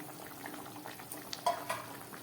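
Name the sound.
fried prawns added to simmering taro and potato curry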